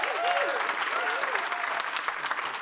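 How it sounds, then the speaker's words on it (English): Audience applause at a talk or panel discussion, a steady moderate wash of clapping heard from a distance, with a brief voice sliding over it near the start. "I'll let them clap"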